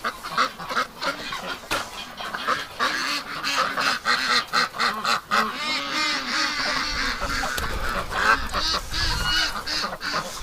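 A flock of ducks honking and quacking continuously on a winter morning, a dense overlapping chorus of loud calls close by with some low rumbling underneath.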